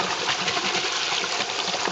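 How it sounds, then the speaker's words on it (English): Lentils being shaken vigorously in water to wash them, a close, steady sloshing and swishing of water throughout, with no talk. "So now you see how I'm very vigorously shaking it up, because I want to get the water until it's clear."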